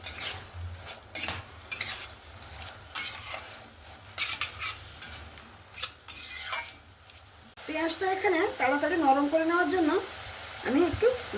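Onions and green chilies sizzle and fry in hot oil while a utensil stirs and scrapes the pan, with a few clinks and a brief voice near the end.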